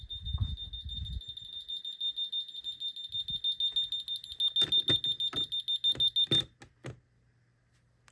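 Ademco alarm system keypads beep upstairs in a rapid, steady series of high, pulsing tones that ring for several seconds, then stop abruptly, followed by a few clicks and handling noises nearby.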